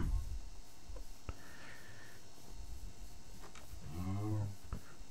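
A cow moos in the Minecraft video game: one short, low, tonal moo toward the end, heard over quiet ambient game sound with a few faint clicks.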